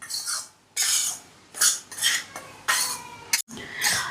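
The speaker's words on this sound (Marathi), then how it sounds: "आता याला आपण परत भाजायला घेतलेलं आहे" Barnyard millet flour dry-roasting in a pan on low flame, stirred with a metal spoon in repeated scraping strokes separated by short pauses, close and distinct.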